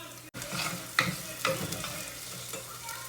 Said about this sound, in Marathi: तर मसाला मस्त फ्राय होतोय.